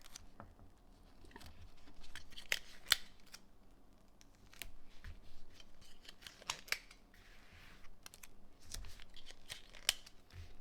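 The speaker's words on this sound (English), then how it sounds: "I'm going to tape each corner." Tape being torn and pressed onto the corners of white paper on a cutting mat: scattered crisp snips, rips and rustles at close range, irregular and fairly quiet, with no voices.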